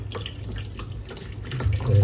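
River crabs being rinsed under a running kitchen tap, a steady close stream of water splashing over the shells, growing louder and fuller toward the end, with no talk.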